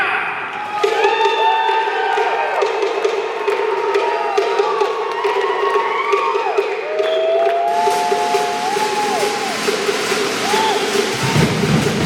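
Crowd cheering and making noise at a fire knife dance championship, a loud sustained roar with whoops and shouts swelling under an announcer's amplified voice throughout.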